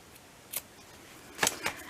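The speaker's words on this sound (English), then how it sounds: "So this last bottom string, we are going to cut it" Scissors snip through a string of cut T-shirt fabric with a few quiet, crisp cuts: a single snip, a pause, then two snips in quick succession, close by over a quiet background.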